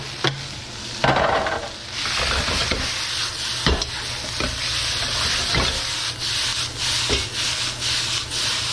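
Vegetable lo mein noodles sizzle steadily in a hot pan while being tossed and broken up with a spoon, with rubbing scrapes and several sharp clicks over a continuous frying hiss and no talking.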